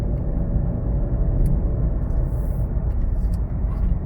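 Renault Clio 5 with a 1.0 TCe engine and Xtronic automatic gearbox downshifting while driving, a steady low engine rumble and road noise heard from inside the cabin.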